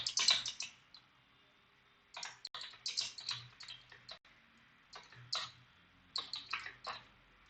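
Keys clatter in quick irregular bursts as Python code is typed on a computer keyboard, with short pauses between flurries of taps; no one speaks.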